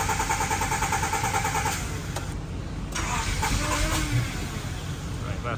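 A Honda CRX HF engine cranks steadily on a jump box, its starter churning in a continuous close, loud drone with a brief dip partway through, while voices speak over it.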